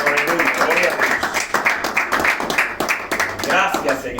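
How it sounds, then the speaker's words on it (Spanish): Church congregation applauding during a worship service, scattered hand clapping heard under loud speech and voices that dominate throughout. "Dale un aplauso al que vive."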